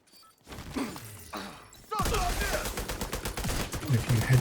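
Shotgun blasts in a video game start sparse and muffled, then a dense run of sharp rapid shots and impacts follows partway through, backed by clatter and rumble.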